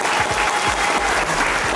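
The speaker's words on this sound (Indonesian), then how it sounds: "Tepuk tangan dulu untuk donatur kita." Dense, steady applause from an audience honouring donors at a fan gathering, a close wash of many clapping hands filling the whole moment without a break.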